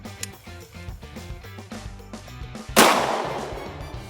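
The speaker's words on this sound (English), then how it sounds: "I've got my shotgun, I've got some shotgun shells, and some ear protection as well." Single loud shotgun blast fired at a FlexFloat mallard duck decoy, sharp and close with a decaying echo, preceded by quieter handling sounds.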